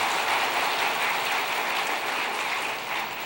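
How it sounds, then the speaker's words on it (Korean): A church congregation clapping together during a Sunday service, producing a steady, even wash of applause that holds at moderate level and tapers slightly at the end, with no talk. "하나님께 영광의 박수 한번 합시다"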